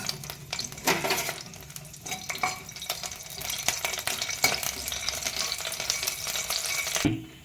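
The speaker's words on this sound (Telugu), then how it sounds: "ఇప్పుడు ఇంగు తీసుకున్నాం కదా చిన్న ముక్క, ఇది వేయించుకుని ప్లేట్లోకి తీసుకోవాలండి" Steady hissing sizzle of a small piece of asafoetida frying in hot oil, with occasional stirring scrapes, close and continuous.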